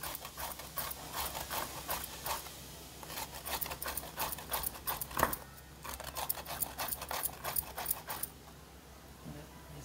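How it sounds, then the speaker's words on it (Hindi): A whole cucumber rubbed against a grater for raita, heard as a steady run of rapid rasping strokes, fairly quiet and close, with no voices. "ऐसे ही पूरा खीरा घिस लेंगे"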